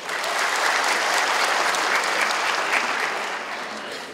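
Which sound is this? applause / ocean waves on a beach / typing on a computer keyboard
applause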